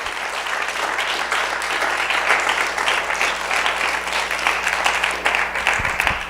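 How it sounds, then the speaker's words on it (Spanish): Church congregation clapping loudly in praise during a Spanish-language sermon, a steady, dense roar of applause sustained throughout with no pause. "Un aplauso fuerte a la gloria bendita del Señor."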